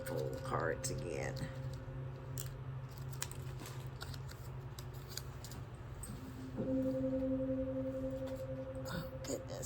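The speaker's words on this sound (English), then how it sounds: "Shuffle cards again." Tarot cards are shuffled by hand, producing quick riffling clicks and soft slaps in irregular bursts, close to the listener, over quiet sustained background tones.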